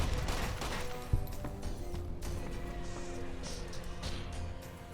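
Laser rifle fire in Fallout: New Vegas, a fairly faint, continuous burst of shots over game background, with one sharper crack standing out near the start.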